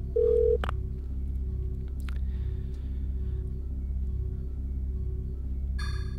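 A telephone in the video game Parasite Eve 2 gives a short dial beep followed by a couple of button clicks over a steady low hum, with a brief tonal blip near the end.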